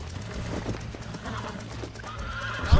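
Horse neighing and clip-clopping hooves in the Red Dead Redemption video game, with a whinny and steady hoof steps at moderate loudness and a sharper thump near the end.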